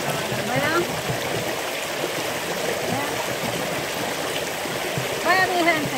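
Running water from a stream rushes in a steady, close wash, with a brief voice rising over it near the end.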